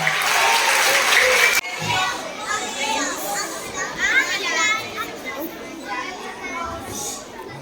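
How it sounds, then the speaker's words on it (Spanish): Loud applause from an audience at a school graduation ceremony, with children's voices and crowd chatter mixed through the clapping as it carries on and slowly eases. "Un último fortísimo aplauso tamén a todos que están."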